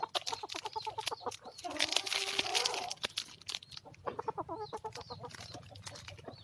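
Foreign-breed chickens in Ngao, Lampang, peck at bread and cluck in quick, overlapping bursts close by, with a rustle of crinkling and a faint voice now and then.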